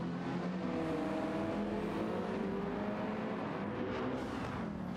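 Subaru BRZ engine in Gran Turismo 7 on the Nürburgring GP circuit, a steady, loud droning hum holding near-constant pitch throughout, with a faint rising whine near the middle and no speech.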